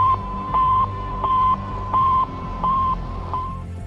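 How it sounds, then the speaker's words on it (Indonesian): Repeated radio beeps sent out by the Sputnik satellite: a steady tone pulses on and off about five or six times at an even rhythm over a noisy, crackling background hiss, with no voices. "Sputnik memancarkan gelombang yang bunyinya seperti ini."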